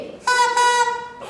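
A loud horn gives a single sustained honk lasting about a second, with a short break in the middle, then a brief toot follows. The horn is bright and close, with nothing else in the background.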